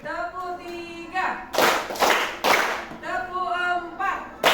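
A group claps in counted bursts during a coding and artificial intelligence class, a leader's spoken voice alternating with sharp clusters of clapping, several distinct rounds spaced about a second apart.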